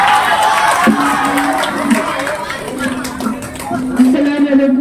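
At a Teacher's Day celebration at a school in Doda, the crowd applauds as a speaker is welcomed to the microphone. The clapping and cheering are loud and close, mixed with chatter and raised voices.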